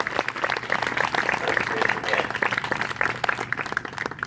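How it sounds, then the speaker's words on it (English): An outdoor audience at The Grand Hotel in Fairhope, Alabama claps for military personnel and veterans, a lively spatter of crowd applause with a voice mixed in. "All right, join me in applause."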